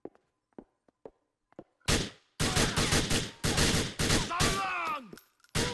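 Gunfire in the video game GTA IV: a few faint clicks and thuds, then a loud, close burst of rapid shots in several volleys with ringing, sweeping tails and a final shot.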